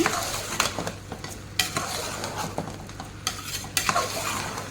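A spoon scrapes and clinks steadily through a sizzling mixture with turmeric in a frying pan, a continuous stirring rhythm with repeated metallic taps over the hiss of frying.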